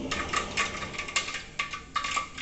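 Mustard seeds spluttering in hot oil for a Kerala prawn curry, giving a dense run of small crackling pops with several sharper bursts, close and fairly quiet, with no voices.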